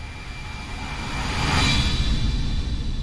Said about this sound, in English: I'm going to do a quick flyby